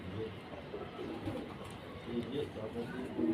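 A pigeon coos softly in short repeated throaty phrases, faint and close, under a person talking.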